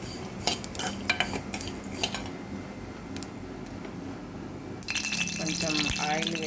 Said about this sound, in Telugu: జీలకర్ర వేయిస్తున్నాం.